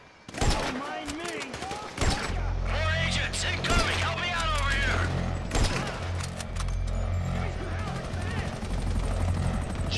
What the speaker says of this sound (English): Can someone do something about that chopper?